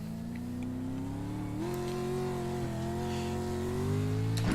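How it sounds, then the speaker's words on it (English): A pro racing truck in iRacing revs its engine steadily while pulling out of the pits, a loud close harmonic drone that climbs in pitch and swells louder toward the end, with no voices. "we'll just shift her into gear here and head out of the pits"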